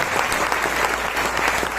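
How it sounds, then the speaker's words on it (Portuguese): A church congregation bursts into brief, dense clapping, a short continuous patter of many hands throughout. "vamos aplaudir Jesus pela vida desses irmãos"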